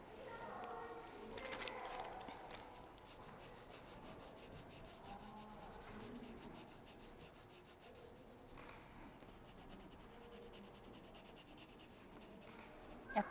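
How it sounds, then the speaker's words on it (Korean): A crayon or marker colouring a drawing's body pink, giving soft continuous scratchy rubbing strokes on paper, quiet and close, with occasional faint voices in the background. "그리고 또 저는 이제 분홍색으로 몸통을 또 칠해 보려고 해요"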